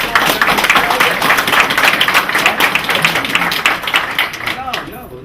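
An audience at a martial arts seminar claps steadily throughout in a dense patter of many hands, loud and near, tapering off at the end while someone talks over it.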